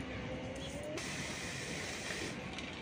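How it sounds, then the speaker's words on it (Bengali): Peas and potatoes for ghugni boil in water in a wok: a soft, steady hiss and bubbling, faint and continuous, heard close up with no talking. "এখানে ঘুগনির জন্য মটর আর আলু সেদ্ধ হচ্ছে"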